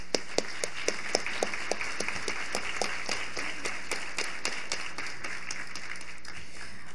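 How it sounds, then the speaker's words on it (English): Evenly spaced, rhythmic clapping rings out at the opening ceremony of a Brazil–Japan joint research workshop, the claps gradually softening and fading toward the end. "Please, a round of applause."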